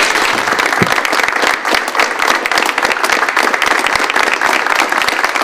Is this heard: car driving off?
no